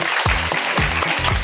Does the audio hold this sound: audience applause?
yes